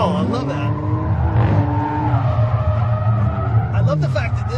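A Kia Stinger, nearly stock, drifts at SEMA 2017 with a steady, loud engine drone and continuous tire skidding running throughout, rising and falling slightly as the car slides.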